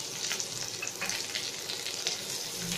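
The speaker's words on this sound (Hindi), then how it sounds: "अब इसमें कटे हुए प्याज को डाल देंगे" Chopped onions frying in a pan with cumin, red and green chillies, a faint, soft crackling sizzle with scattered small pops throughout, fairly quiet and without talk.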